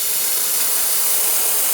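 A La Marzocco GS3 AV espresso machine's steam wand hisses loud and close in one continuous, bright blast that stays steady from start to finish.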